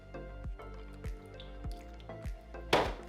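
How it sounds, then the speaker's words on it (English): Milk poured into smoked queso, soft wet drips and squishy plops landing at a steady pace close up, ending in a brief louder splash, with no voices. "Now I'm gonna be adding a little bit of milk in there."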